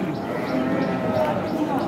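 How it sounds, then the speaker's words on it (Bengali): Cows at a rural cattle market in Thakurgaon, on a muddy ground: a low drawn-out moo under murmuring crowd noise, fairly close and moderately loud. "এই যে এদিকে আপনারা দেখছেন উন্নত জাতের কিছু গাভী"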